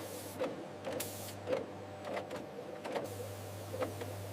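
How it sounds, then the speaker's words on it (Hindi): A cumin packet packing machine printing batch numbers and expiry dates runs with a rhythmic series of mechanical clicks and whirs about every half second over a low steady hum, fairly quiet and without voices. "यह मशीन 1 मिनट में सैकड़ों पैकेट्स तैयार कर सकती है। साथ ही बैच नंबर और एक्सपायरी डेट भी प्रिंट हो जाती है।"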